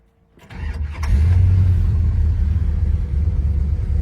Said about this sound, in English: Key turns the fuel pump on, push button start.